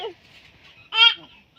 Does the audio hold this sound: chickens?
yes